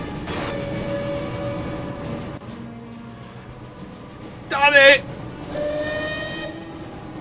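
Train pulling away in the Harry Potter and the Chamber of Secrets PS1 video game, a steady rumbling hum with a brief shrill whistle burst midway, while someone talks over it.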